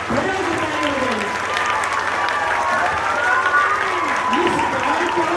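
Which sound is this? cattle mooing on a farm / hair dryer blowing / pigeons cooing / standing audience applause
standing audience applause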